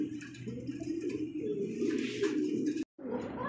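Silver-coloured pigeons coo in a steady low warble, several birds close by and loud, with a brief silent gap near the end before the cooing resumes.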